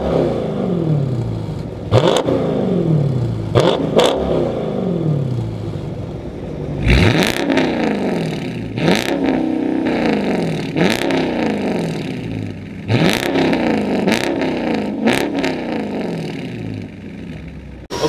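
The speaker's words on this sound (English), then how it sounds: "We're gonna see who's the loudest car out of this Dodge Charger RT and this Scat Pack 392 Challenger." Two Dodge muscle cars, a Charger R/T and a Scat Pack 392 Challenger, rev their V8 engines in a series of loud, close blips, each rising roar dropping back to idle, with no talk.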